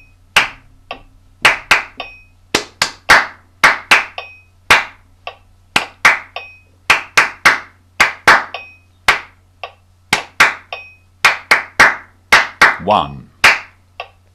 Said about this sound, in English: then it'll be one rest and a clap